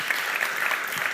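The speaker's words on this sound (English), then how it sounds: "let's have a round of applause." Attendees at a Kubernetes tech conference talk applaud briefly, an even, steady patter of many hands clapping at moderate loudness with no voices over it.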